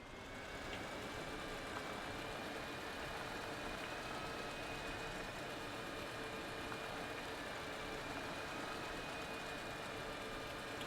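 Steady engine drone of a tractor in the video game Astroneer, a continuous mid-to-low hum with faint tonal whine, running alone at constant level without talk.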